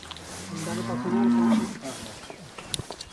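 A cow gives one low, drawn-out moo nearby, with faint rustling around it and no talking.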